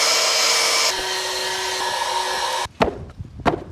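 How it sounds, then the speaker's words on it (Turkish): A cordless vacuum cleaner's whining motor hums steadily while cleaning a car, shifting pitch partway through, then cuts off abruptly, followed by a few sharp knocks and thuds. "Süpürgemizi deniyoruz. Şarjlı süpürge."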